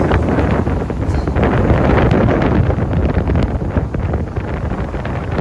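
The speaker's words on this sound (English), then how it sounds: "It's really windy here today." Strong wind on the Appalachian Trail buffets the microphone in a constant low roar, with gusty rumbling throughout and no voices.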